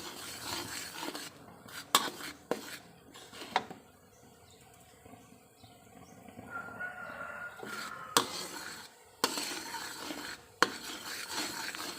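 Sugar and tamarind water simmering over low heat while being stirred, with quiet scraping strokes against the pan punctuated by a few sharper knocks, alongside a faint crowing rooster and clucking fowl in the background.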